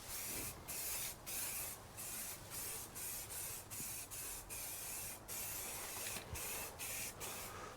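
Short, regular bursts of aerosol guide coat hiss onto a sanded car roof panel, each spray lasting about half a second with brief gaps between, steady and fairly close.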